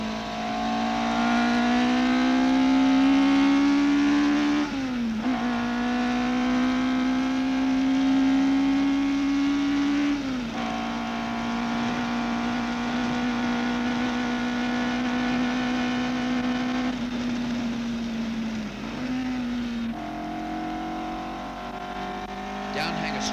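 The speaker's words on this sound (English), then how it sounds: "Cooper Cosworth Ford, belonging to the Normand racing team." A Cooper Cosworth Ford racing car drives at speed around Silverstone, its engine giving a loud, continuous drone that rises and falls through several gear changes, with a voice narrating over it.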